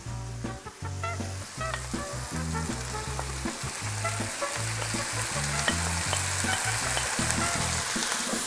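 Chopped chilli, garlic, mushrooms and grated carrots fry in a pan for beef enchiladas, giving a constant close sizzle with repeated rhythmic stirring and scraping throughout, with no voices.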